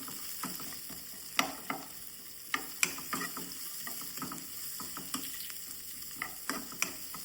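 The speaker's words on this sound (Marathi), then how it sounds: "फोडणी करून घेवया." Spices and chopped onion with green chilli fry in oil as the tempering for a jackfruit bhaji, giving a low, steady sizzle broken by frequent stirring scrapes and light clinks of a spoon against the pan.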